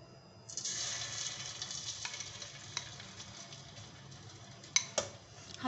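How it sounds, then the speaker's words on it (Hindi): Eggs, dipped in batter for egg chilli, sizzle and crackle in hot oil, a steady frying hiss that starts abruptly and carries a few sharp pops and spatters near the end. "हम ये अंडे बारी बारी डिप करके इस तेल में फ्राई कर लेंगे। तेल गर्म हो चुका है"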